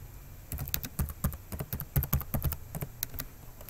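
Quick, irregular keystrokes on a computer keyboard as a terminal command is typed during a Tizen SDK installation on Linux, close and fairly quiet, with no talk.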